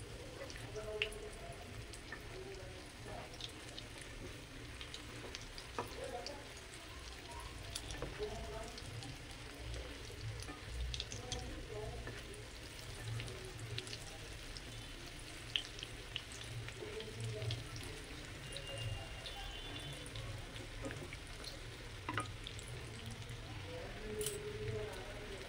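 Fish chops fry in a pan over low to medium heat, a continuous soft sizzle with small pops and crackles running throughout, with a voice talking quietly now and then.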